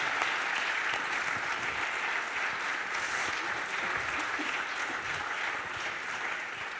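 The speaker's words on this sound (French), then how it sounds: "sous vos applaudissements, sous vos gros applaudissements" Studio audience at a French talk show on disability and illness giving steady, enthusiastic applause, a dense continuous clatter of hands that stays even from start to finish.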